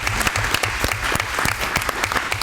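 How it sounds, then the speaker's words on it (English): Audience clapping for volunteers at a school board meeting held in a gym, a dense, loud round of applause with crisp individual claps throughout. "Round of applause for our volunteers"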